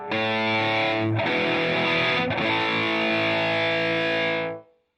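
An electric guitar played through a distortion effects unit rings out in heavily overdriven sustained chords, loud and close, shifting a couple of times before fading out at the end.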